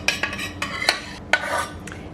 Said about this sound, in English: Now I'm going to add in the chocolate.